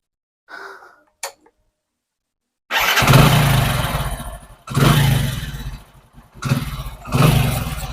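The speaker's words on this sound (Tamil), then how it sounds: "பாருங்க, இன்ஜின் சவுண்டு நீங்களே கேளுங்க" A couple of short sputters, then a Hero Honda Splendor Pro motorcycle engine with a valve ticking problem catches and runs loudly, its revs rising and falling in several surges.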